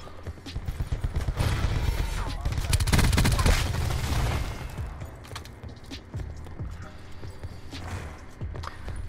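The Peacekeeper gun fires in a video game with fast, sustained automatic bursts that swell loudest in the middle and then thin to scattered shots, with someone talking over it.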